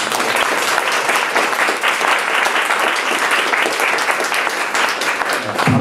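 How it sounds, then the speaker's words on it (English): Loud, sustained applause from an audience at an evening poetry reading, a thick unbroken wash of clapping throughout. "So I think a round of applause for Paul immediately for what he's done."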